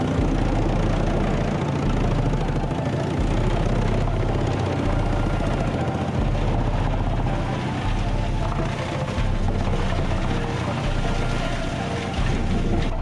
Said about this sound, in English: This machine easily crushes the wood into small pieces, preparing them for an efficient combustion process